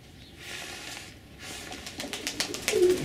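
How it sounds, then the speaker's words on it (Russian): Pigeons at a morning feeding, with soft intermittent cooing and rustling around a feeding area, bursts of activity building toward the end alongside faint bird calls; no one speaks. "Вот это у нас утренняя кормежка."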